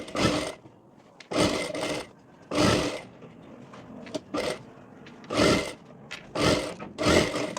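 Sewing machine stitching blouse fabric in short bursts of rapid mechanical whirring, about seven separate runs with quiet pauses between, close and fairly loud, no voices.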